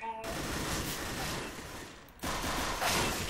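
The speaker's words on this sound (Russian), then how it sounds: "Вадим, мне хэдшот дали с одного выстрела." Gunfire rattles in Counter-Strike: Global Offensive, with dense bursts of shots and a short gap before firing resumes, loud throughout.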